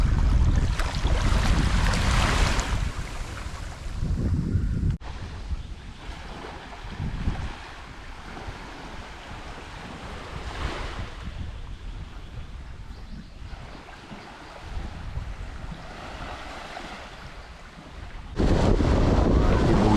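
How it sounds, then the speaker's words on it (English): Strong wind buffets the microphone on Playa Blanca beach near Livingston, Guatemala, mixed with a continuous wash of surf, loud gusts at the start and end and a calmer roar between. "Wind has picked up though."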